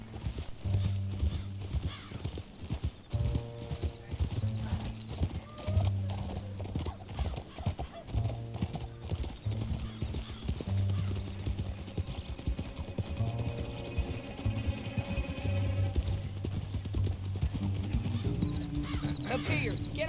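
Hooves clatter in a quick, rhythmic gallop from several horses in the video game Red Dead Redemption 2, with an occasional whinny, all steady and fairly close.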